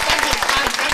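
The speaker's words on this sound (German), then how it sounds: "Einen Applaus mal bitte eben schnell." A crowd applauding briefly at a German family stage show, a quick burst of dense clapping heard up close.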